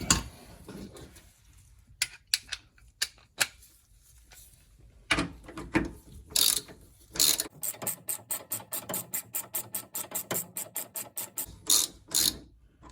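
A ratchet wrench working on a bolt of a BMW M2 rear adjustable toe arm: scattered sharp clicks at first, then a fast, even run of close metallic ratcheting clicks.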